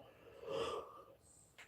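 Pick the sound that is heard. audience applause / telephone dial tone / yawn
yawn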